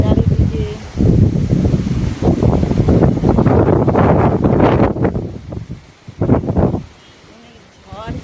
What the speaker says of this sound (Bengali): ভীষণ হাওয়া চারিদিকে।